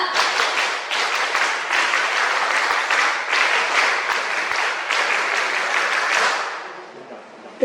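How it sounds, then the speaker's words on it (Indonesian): A crowd at a scout contingent send-off ceremony does the rhythmic scout clap, bursts of unison clapping in repeated patterned groups, loud and close, ending with a quieter tail. "Dua kali tepuk pramuka."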